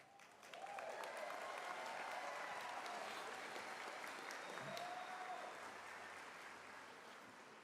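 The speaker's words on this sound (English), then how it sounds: "I really thought that would get more applause from the folks up here in front." Steady applause from a crowd at Central Methodist University's spring 2024 commencement ceremony, rising quickly then holding as a dense, somewhat distant wash of clapping that fades slightly toward the end.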